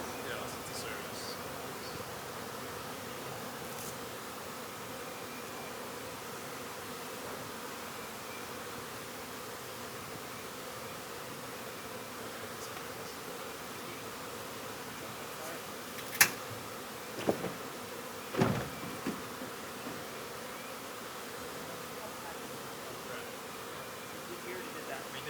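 Bees buzz around a beekeeper's hives in a continuous soft, even drone throughout, with a few brief clicks and knocks near the end; no talking over it.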